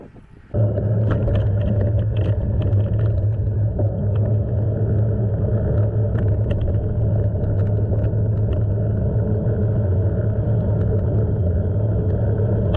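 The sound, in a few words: strong wind blowing outdoors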